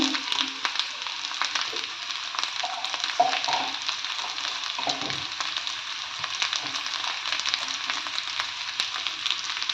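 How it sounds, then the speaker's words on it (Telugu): Okra (bhindi) frying in hot oil with a little salt, giving a continuous hissing sizzle with scattered pops and soft stirring clatter, close and fairly loud, no voices. "ముందుగా ఫ్రై చేసి పక్కన పెట్టేసుకుంటాను."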